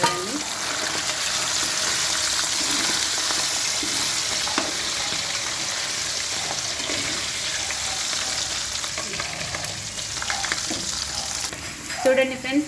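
Half a kilo of chicken pieces fry in a pan for chicken pickle, a loud, dense, continuous sizzle with occasional stirring scrapes and a brief watery splash near the end.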